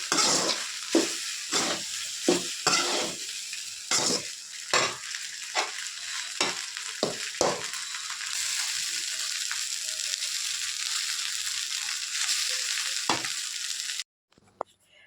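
Egg fried rice with mint stirred in a hot pan, a spatula scraping and tossing in quick repeated strokes over a bright sizzle, then a steadier frying hiss that cuts off near the end.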